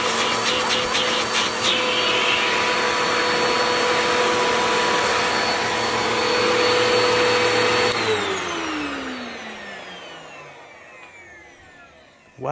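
An upright vacuum cleaner runs loudly with a steady motor whine, then is switched off and winds down, the pitch sliding lower as it fades toward silence.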